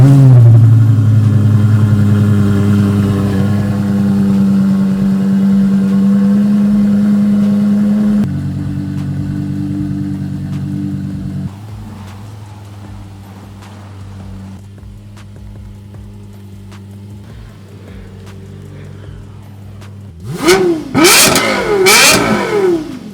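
Lexus LFA V10 with a Yamaha-tuned exhaust, rising and sustained engine tones at close range, then a dip to lower steady running before sharp, loud revs climb and fall near the end.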